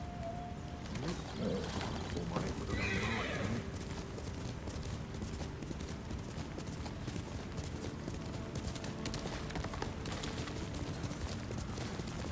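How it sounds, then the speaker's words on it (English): A horse in the video game Ghost of Tsushima clops along in a steady hoof rhythm, with no talk, under a continuous outdoor ambience with a few bird calls. "let's hop on my horse and look around"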